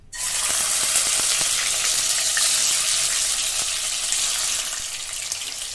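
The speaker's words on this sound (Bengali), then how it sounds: "তেলটা গরম হয়ে গেছে। এবার আস্তে আস্তে মাছগুলো দিয়ে" Fish sizzling loudly in hot oil for aar macher kalia, a dense continuous hiss and crackle starting abruptly and holding steady close up.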